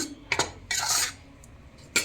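A spoon clinks and scrapes against a bowl in a few short, close bursts while flour and baking soda are mixed dry for Gujarati-style bread pakoda batter, with quiet pauses between.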